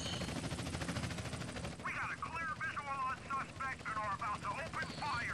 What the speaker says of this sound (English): And is that helicopter stuck?